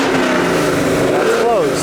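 A drift car's engine revs loud and close with its exhaust valve open, a raw, throaty roar that climbs and falls in pitch near the end.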